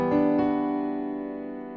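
A sustained minor 9 chord rings out on a keyed instrument, struck with two quick attacks near the start and then left to decay slowly and evenly, with no voices over it.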